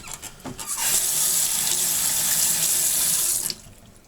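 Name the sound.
gas mask air deflector shields swished in water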